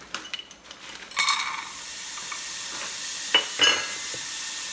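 Frozen blueberries sizzle in a sauce pot, a steady hiss of frying with a few stirring scrapes and clinks of a utensil against the pot at the start and near the end.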